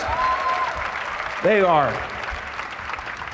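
A crowd at a summer kickoff community event applauds a family singing group, clapping running throughout under a voice that speaks briefly and a rising, wavering whoop-like call in the middle.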